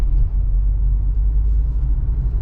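A large vehicle rumbles past at close range with a steady, heavy low drone that holds loud and continuous throughout, with no voices over it.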